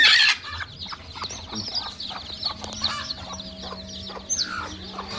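Hens cluck and murmur softly in a village yard, with a few sharper chick peeps scattered throughout from more than 20 chicks.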